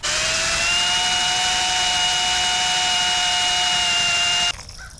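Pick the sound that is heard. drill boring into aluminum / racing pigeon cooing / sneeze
drill boring into aluminum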